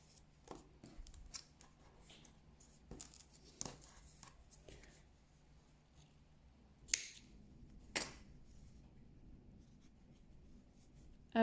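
Scissors snip through a crochet yarn tail in a few quiet, sharp cuts, with soft handling noises in between and no talking.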